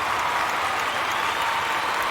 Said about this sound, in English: That's a very loud cheer.